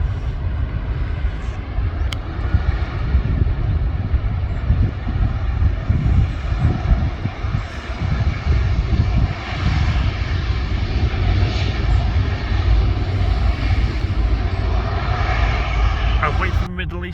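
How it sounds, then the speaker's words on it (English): A Qatar Airways airliner bound for Doha takes off from Manchester Airport, its jet engines a loud, sustained roar with a broad rumble that holds across the whole stretch, with some wind buffeting. "we're about to see one take off. Qatar Airways to Doha."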